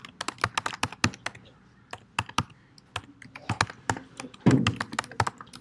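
Username being typed on a computer keyboard, a close run of crisp key clicks in uneven bursts with short pauses and one heavier thump near the end.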